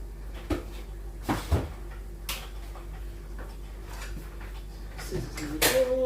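In a home kitchen, a drawer is opened and closed, giving a few wooden knocks and sliding thumps spaced irregularly over a steady low hum, with a brief scrape near the end.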